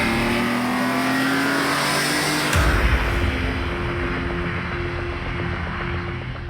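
A BMW M3 CSL engine revving hard while driving, a loud close rasp that climbs in pitch, then drops sharply at a gear change before building again.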